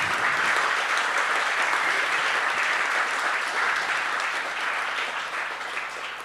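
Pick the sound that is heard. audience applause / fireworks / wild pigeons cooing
audience applause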